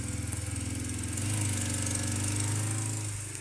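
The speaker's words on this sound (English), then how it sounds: "my neighbour has just pulled up the drive on his motorbike and it's making a little bit of noise" A loud, steady motorbike engine drone with a throbbing low rumble that swells and holds as it pulls up a driveway close by.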